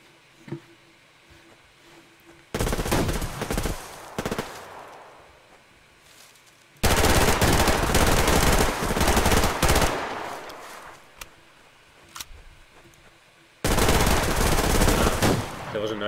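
Automatic weapons fire in the post-apocalyptic shooter Survarium. Loud, close bursts of rapid gunfire arrive in three long volleys, with quieter gaps between them.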